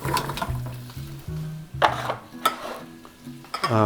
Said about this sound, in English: I'll put the mussels in.